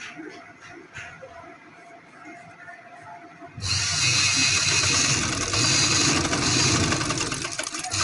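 Close, loud whirring of a sewing machine stitching piping onto a round neckline, starting after a few seconds of quiet handling and running continuously to the end.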